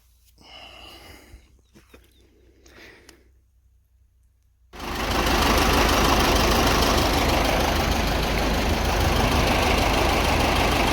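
An old KhTZ T-74 tractor engine roars in abruptly after a quiet stretch of faint sounds, then holds a loud, close, steady heavy rumble to the end.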